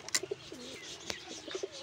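Pigeons coo softly in short, throaty bursts, a few calls close by with a sharp chirp and a faint click between them.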